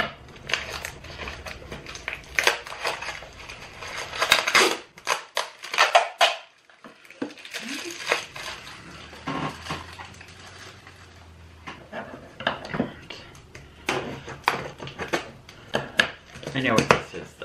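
Tape crackles and rips in bursts as a taped-up haul package is pulled open, loud tearing strips and rustling with pauses, while a person talks over and between the noises.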